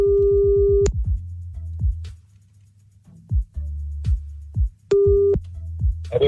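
Repeating telephone busy tones, short steady beeps at regular intervals, sounding clearly over a low rumbling line noise with scattered clicks and thumps.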